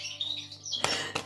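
A pet bird chirps indoors in short, high tweets, faint at first, then two brief louder bursts near the end, over a steady low hum.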